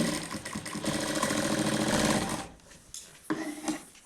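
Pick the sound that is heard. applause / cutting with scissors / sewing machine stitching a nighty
sewing machine stitching a nighty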